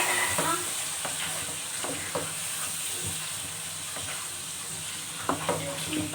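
Chicken, green chillies and spices being stirred together in a hot pan for a chicken and turnip curry, with a steady sizzle and intermittent scraping of a spoon against the metal throughout.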